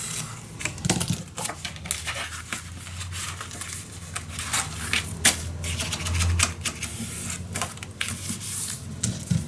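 Paper is cut for a wedding mini album with a steady run of crisp, close snips and slicing clicks, repeated over several seconds, along with light rustling of the sheets.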